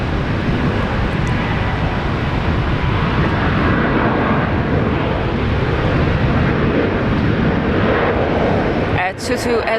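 A Virgin Australia airliner taking off at Brisbane International Airport, a loud continuous engine roar and rumble held steady from a distance, with a brief clattering bump near the end.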